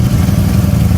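Ducati motorcycle engine running with its air filter removed, a loud, close, steady mid-low growl with slight pulsing throughout the brief moment, no voices.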